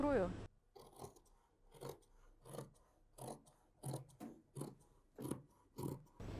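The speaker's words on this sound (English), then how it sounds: "I can start cutting the front." Scissors cut through dress fabric in a steady series of rhythmic, close snips, about one each half second, with a brief bit of sound at the very start.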